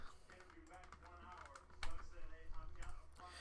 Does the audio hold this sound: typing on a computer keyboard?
yes